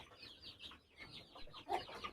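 Guinea fowl and chickens cluck on a farm, a faint run of short, scratchy calls close together, with one slightly louder squawk near the end.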